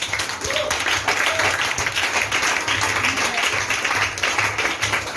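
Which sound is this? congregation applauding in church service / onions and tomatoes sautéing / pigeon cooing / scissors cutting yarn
congregation applauding in church service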